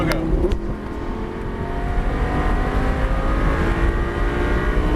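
An exotic sports car engine drones and builds speed on the Motorsport Ranch race track, a steady, close hum rising under an instructor's coaching voice.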